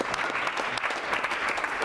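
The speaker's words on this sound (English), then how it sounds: "Let's give a round of applause for Coach Brown." A dense burst of audience applause for Coach Brown, many hands clapping at once, loud and steady throughout without any break.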